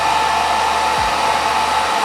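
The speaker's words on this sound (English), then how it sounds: "we're gonna give it a little heat, not from a heat gun, from just a blow dryer" A household blow dryer runs steadily and loud throughout, its even airflow whoosh held with a strong hum, used to warm the seam of a Darth Maul Legacy lightsaber toy; a brief low thump occurs midway.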